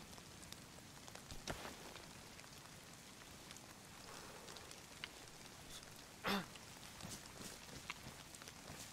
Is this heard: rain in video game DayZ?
yes